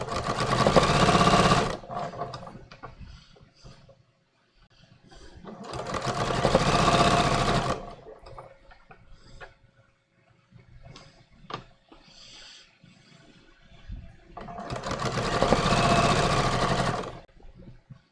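Sewing machine stitching side seams on floral linen shorts, three loud bursts of rapid motor whirring and needle chatter separated by quiet pauses with faint handling clicks.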